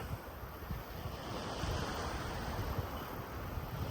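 Waves surging and washing continuously around a kayak on Mallows Bay, with wind buffeting the microphone; no voices, a steady rushing roar.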